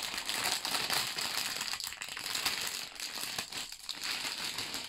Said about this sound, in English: let's open up bag number 1